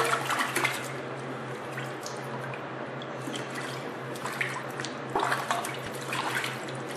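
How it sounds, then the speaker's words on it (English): A caulk gun's clogged tip rinsed in a bucket of water, giving soft continuous sloshing and trickling with a few sharper splashes, close and fairly quiet. "try to wash out that caulking at the end of the tip. You can see where it bunged up there. Just take a bucket of water"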